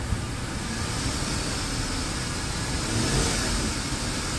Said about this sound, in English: And we raise the throttle up a little bit.